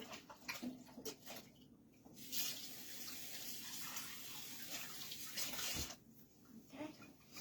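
A cup rinsed under a running kitchen tap: steady faint water splashing and hissing, with brief clinks and interruptions as the flow is moved around, quiet and close.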